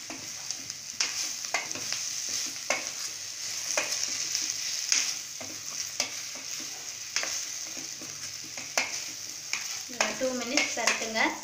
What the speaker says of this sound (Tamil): இப்போ நம்ம இந்த வேக வச்ச வாழைக்காவை இதில் போட்டு பரட்டிடலாம்.